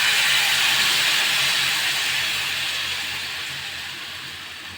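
Neer dosa batter meets a hot pan and sets off a loud, continuous sizzling hiss up close. The hiss slowly eases as the clip goes on, and no one speaks.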